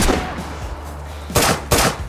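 Gunfire in the survival game DayZ: a muffled low rumble at first, then two sharp, loud broadband shots about a third of a second apart, each with a short decaying tail, close to the listener.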